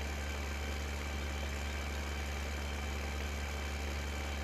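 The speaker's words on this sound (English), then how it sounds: "We need a faster tractor to keep up with that that thing." Tractor engine in the Farming Simulator 15 video game, a steady low idling rumble with constant mechanical drone and vibration, holding even and moderately loud throughout with no talking.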